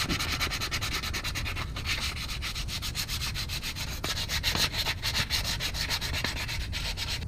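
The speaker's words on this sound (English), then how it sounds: "Just gonna take some 320 grit and just slightly scuff it." Sandpaper of 320 grit lightly scuffing a brake caliper on a 2000 C5 Corvette, a steady continuous rasping rub, close and fairly loud, carried on without pauses and with no talk.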